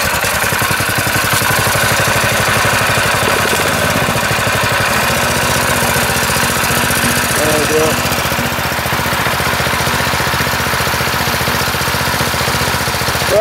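The small gasoline engine of a highbanker, started with the choke on, runs loud and steady with a rapid chugging throb that continues throughout, alone with no talk.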